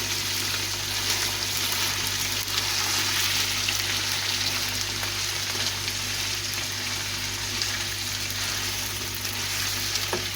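Ginger-garlic paste frying in hot oil for shalgam gosht, a steady, close, hissing sizzle that holds evenly throughout with no talking.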